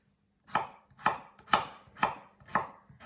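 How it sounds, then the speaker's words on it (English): A knife cuts potatoes lengthwise on a board for a dry Indian potato dish, six crisp, evenly spaced chops landing about every half second, close and clean with no talk. "So you just go that way lengthwise, down the middle again, and then slice them."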